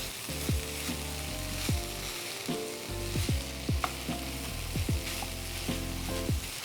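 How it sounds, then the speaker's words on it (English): Soya granules and masala are stirred together in a frying pan for vegan kheema, giving a steady close sizzle with repeated scraping strokes throughout. A faint tonal background runs underneath. "So what I'm doing is just mixing the soya granules and the masala really well."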